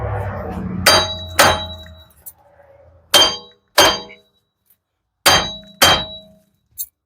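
A hammer strikes the steering knuckle of a 2013 Dodge Journey to drive out the front wheel bearing, giving sharp ringing metal clangs in spaced pairs, about seven blows in all, close and loud with silence between them.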